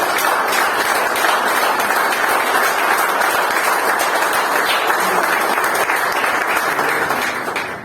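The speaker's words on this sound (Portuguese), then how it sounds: "E eu queria, meus irmãos, começar este culto com uma belíssima salva de palmas para Jesus." Loud, sustained congregational applause during a church service, a thick unbroken roar of many people clapping together that holds steady before easing off at the end.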